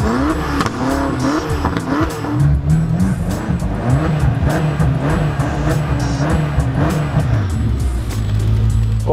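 Race car engine on the Nemunas Ring circuit, a roughly 750 hp, 1050 Nm machine, revving and accelerating loudly with tire squeal, sustained engine drone with shifting pitch throughout, close and continuous.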